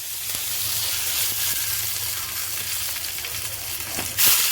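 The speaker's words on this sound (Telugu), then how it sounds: "ఇప్పుడు పోపు వేసుకుంటున్నాం." Tempering spices dropped into hot oil for cucumber dal, a steady soft sizzle and crackle close by that swells into a brief louder hiss at the end, with no talk.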